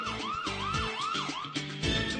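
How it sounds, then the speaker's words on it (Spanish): An emergency siren wails outdoors in a steady rising and falling sweep, fairly faint and distant, with no talk over it. "Esa sirena se escucha aquí afuera."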